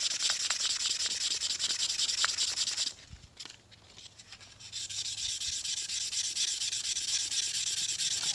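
Fine 1500-grit sandpaper rubbed by hand over an ATI damper hub for a Dodge Magnum 360, a steady close rasping that pauses briefly midway before resuming.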